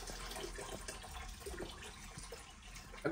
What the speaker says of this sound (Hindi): अब ये साफ पानी डाल लें